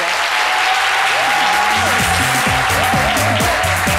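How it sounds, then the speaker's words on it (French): Applause from a French-language TV studio audience, a loud continuous roar of clapping throughout, with a sustained melodic tone and music-like pulses running underneath. "Je vous demande d'applaudir."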